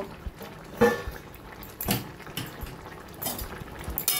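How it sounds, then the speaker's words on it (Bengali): A pot lid is lifted off a simmering Bengali papaya and potato curry, metallic clanks and a scrape of cookware over a soft bubbling background, close and brief with no speech. "এবার আমি ঢাকাটা তুলে দেখে নেব।"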